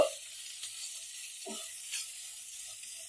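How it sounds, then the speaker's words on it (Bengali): A medium chopped onion frying in oil in a pan gives a faint, steady sizzling hiss, with one soft stirring knock partway through. "পেঁয়াজটা একটু লাল লাল করে ভেজে নেব"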